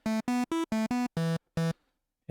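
Oberheim Teo-5 synthesizer with oscillator sync switched on, second oscillator tuned to D: seven crisp, harmonically rich staccato notes in a brisk melodic run, loud and close with nothing else audible.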